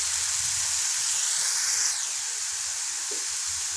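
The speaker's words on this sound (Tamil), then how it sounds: "நான் ஒரு 2 ஸ்பூனு இஞ்சி பூண்டு பேஸ்ட்டு போட்டிருக்கேன்" Ginger garlic paste, two spoonfuls, sizzles and hisses in a hot pan while goat leg paya is being cooked; a steady, bright frying hiss runs throughout, loud and close, with no talking.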